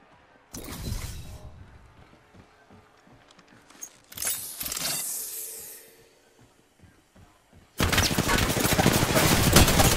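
Apex Legends gunfire arrives in separate bursts: one loud volley early on, a harsher spell of shots with a hissing, shattering edge midway, then a long, dense stretch of rapid automatic fire to the end.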